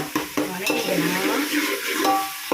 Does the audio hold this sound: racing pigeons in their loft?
no